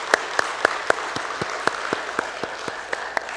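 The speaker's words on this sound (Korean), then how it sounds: "감사의 박수 한번 올려드리겠습니다" A church congregation at an early-morning service claps together in a steady, fairly even rhythm of distinct claps, moderately close and alone without talk.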